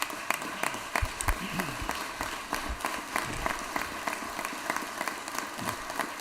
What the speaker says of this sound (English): let's give Senator Beach a big round of applause here.